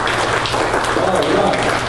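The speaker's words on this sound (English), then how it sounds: "Give the Lord a hand clap." A church congregation claps hands together in a brief burst of dense, continuous applause, loud and close, with voices mixed in.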